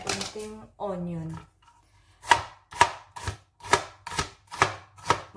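A knife chops onion on a cutting board for eggplant pasta, seven or eight crisp, evenly spaced chops close up, following a short stretch of someone speaking.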